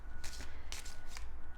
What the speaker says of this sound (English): I wanted to talk while I'm shuffling the cards.